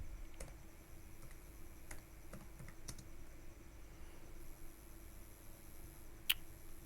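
Light, sparse keystrokes on a computer keyboard tap out in a quiet room, with a few separate clicks and one sharper click near the end.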